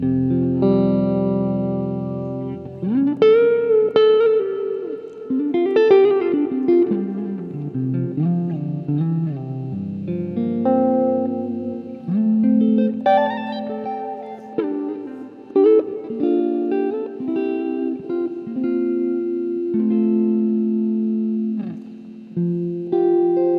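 An electric guitar plays slow notes and chords through a NUX hall reverb pedal modeled on the Lexicon 224, each tone ringing out with long, spacious tails between phrases.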